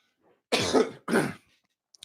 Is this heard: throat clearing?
yes